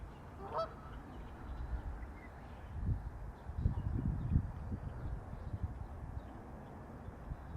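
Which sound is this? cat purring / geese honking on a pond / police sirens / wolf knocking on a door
geese honking on a pond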